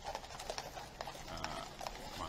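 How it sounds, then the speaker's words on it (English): Horses' hooves clip-clop in a steady, repeated rhythm as they pull a carriage in a ceremonial procession, heard at moderate distance over a low background rumble. "Right now there are people with horses and a carriage."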